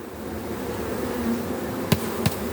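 Bees buzz around an opened stacked hive during a honey harvest, a low continuous drone close by, broken near the end by two sharp knocks on the wooden boxes.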